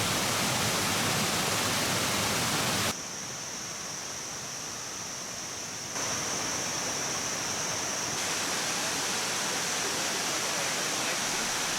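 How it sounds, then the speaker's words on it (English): Kuang Si waterfall near Luang Prabang, Laos, a loud, constant rushing roar of falling water with abrupt changes in level between sections, no voices. "the main waterfall"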